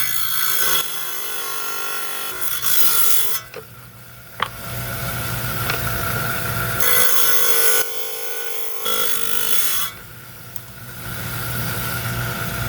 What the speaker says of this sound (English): We're down here on my 5-inch high-tech trim saw.